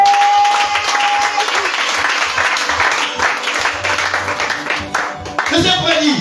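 Applause from a church congregation, a dense, steady patter of clapping filling the space at close-to-mid distance, with a voice speaking over it toward the end.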